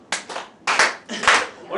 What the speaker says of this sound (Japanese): 皆さん手拍子をください。